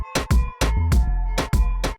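A Latin drum kit preview from Native Instruments Zona Ritmo plays in Maschine: punchy percussion hits in a syncopated rhythm over a low bass tone, clean and close, with no voices.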